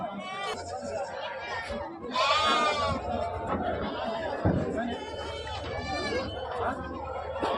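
Osmanabadi goats bleat at the busy Shirur goat market, their calls rising now and then through dense crowd chatter and people talking nearby.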